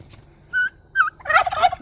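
Turkeys in their pen give a few gobbles: two short calls, then a longer, louder rattling gobble, close by with quiet surroundings between calls.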